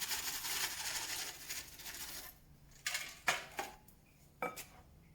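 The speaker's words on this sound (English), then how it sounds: "You want to give it a good mix so that it's evenly distributed throughout the mix" A spoon works flapjack mixture with sunflower and pumpkin seeds and raisins in a bowl, first with a soft grainy scraping, then with a few sharp, separate clinks against the bowl in a quiet room.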